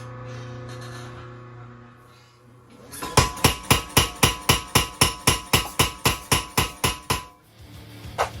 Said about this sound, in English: that about wraps it up for the walkthrough on my new Clay Spencer tire hammer